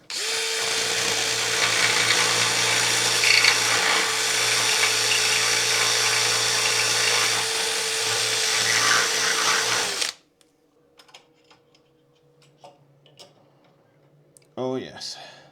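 A power drill fitted with a blunt masonry bit bores into a wall while a basin lever pop-up waste is being fixed. It whines loudly and steadily at close range for about ten seconds, then cuts out to quiet handling noises and a brief final burst.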